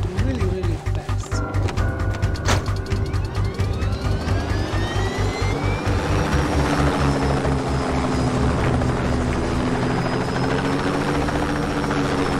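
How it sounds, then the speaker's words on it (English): A helicopter in Just Cause 2 flies steadily, its loud rotor chop pulsing evenly through the first half, then settling into a sustained whining drone with rising engine pitch. "this chopper is actually really, really fast."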